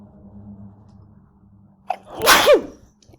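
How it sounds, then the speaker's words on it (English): A single sharp sneeze bursts out near the end after a short intake of breath, loud and close against a quiet background. "I could feel that sneeze."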